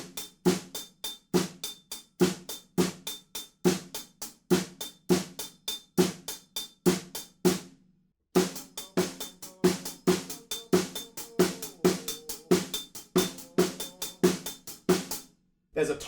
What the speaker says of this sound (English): When they come back in, we got snare drum and hi-hats playing a pattern